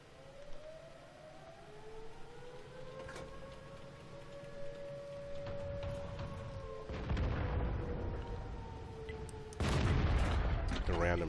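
Tank gunfire in World of Tanks, from an IS-2 tank: a long, wavering siren-like tone runs under the scene, then two heavy, broad blasts land near the end, the second louder and sustained.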